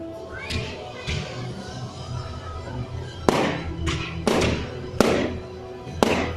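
Fireworks bursting on bonfire night: four sharp, loud bangs crack out in the second half, each with a crackling tail, after fainter distant pops and a low background rumble.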